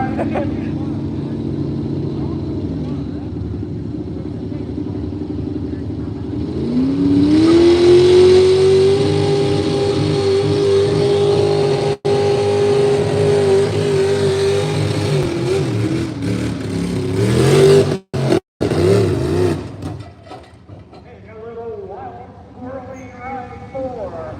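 A heavy pulling tractor engine roars up at a tractor pull and holds a loud, strained drone for over ten seconds, then cuts out and drops away, with voices talking throughout.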